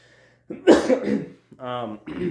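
A couple of rough, breathy coughs close by, followed by a short voiced throat sound.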